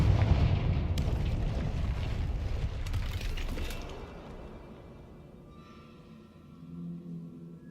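A Confringo fire spell in Hogwarts Legacy lets out a heavy, loud booming blast with a rumbling roar that fades over several seconds, followed by a softer whooshing swell near the end.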